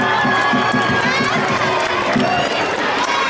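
A crowd at a town's cultural-week coronation ceremony claps and cheers, with excited shouts and a rhythmic pulse running under the sustained noise, loud and close throughout.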